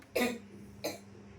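Two short coughs, a sharp first one followed by a softer second, close up in a quiet room.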